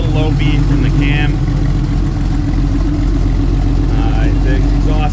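A 1990 Porsche 911 Carrera 2 (964) with a non-stock, less restricted exhaust idles loud and steady with a low lumpy cam beat, close by and continuous, with someone talking over it.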